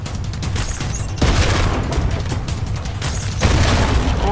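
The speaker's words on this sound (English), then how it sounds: "stop spamming the boom bolt!" Rapid bursts of boom bolt explosions in Fortnite, with dense crackling blasts firing back to back for several seconds, loud and close, with a few sharper booms standing out.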